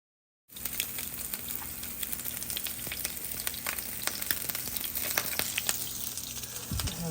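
Salmon patties fry in a pan at breakfast, a steady close sizzle with scattered crackles and pops that starts after a brief silence and continues evenly.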